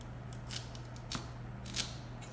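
A knife cuts a parsnip into three pieces on a board, giving three short, crisp chops spaced about half a second apart over a low steady hum.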